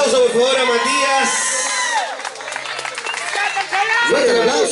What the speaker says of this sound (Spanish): Le damos un gran aplauso, por favor, a Matías.